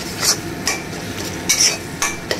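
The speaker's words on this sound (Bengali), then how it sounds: "এবারে মশলাটাকে ভালো করে কষাবো।" Spice masala frying in a pan for chicken ghugni is stirred with a metal utensil, several scraping clinks against the pan at uneven intervals over a constant low sizzle.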